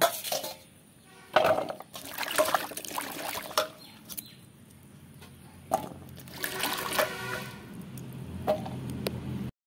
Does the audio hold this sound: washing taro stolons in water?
yes